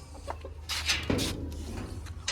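Chickens cluck nearby in short, scattered calls over a low steady hum, with a few scratchy rustles in between.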